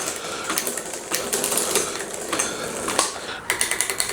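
An old bicycle's gear lever, freed of dried grease, gives quick sharp mechanical clicks and ratcheting over a steady whirring of pedalling or a turning drivetrain, close and moderately quiet.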